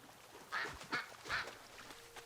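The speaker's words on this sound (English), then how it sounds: "We're not killing ducks." Ducks in World of Warcraft give three distinct quacks in quick succession, moderately close against a quiet background.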